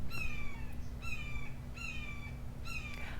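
A bird gives four harsh, crow-like caws, evenly spaced, with a steady low hum underneath.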